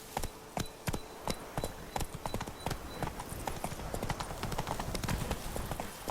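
Horse galloping in The Witcher 3 video game, with steady, loud hoofbeats drumming in a fast rhythm over an ambient outdoor backdrop throughout.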